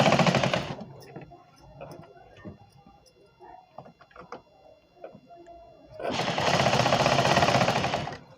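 A sewing machine stitches a panel of a four-panel petticoat with lock stitching, running in a loud, steady burst at the start and again at the end, with a person talking in the quieter stretch between.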